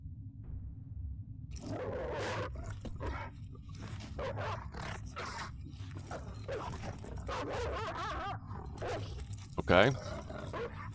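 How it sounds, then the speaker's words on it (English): A dog barks loudly in the horror video game Fear and Hunger, its repeated barks and growls running under near-constant talk from a male player, with a brief louder burst near the end. "the dog sound is loud as shit"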